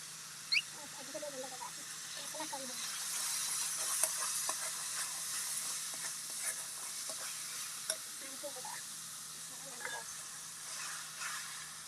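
Masala for chicken kasa frying in a pan: a continuous soft sizzle with repeated scraping stirs and occasional sharp clinks of the utensil, fairly close.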